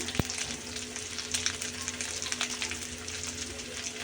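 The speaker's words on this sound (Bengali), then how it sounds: "ভালো করে কষিয়ে নিচ্ছি মশলাগুলো" Spices being sautéed in oil for a river-fish curry, a steady close sizzle and crackle throughout with a sharp scrape or clink near the start.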